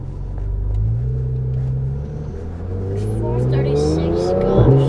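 A Porsche GT3 RS fitted with Dundon race headers and a full exhaust drives around the block, its loud engine rumbling and rising through revs close by, with a brief tire noise near the end.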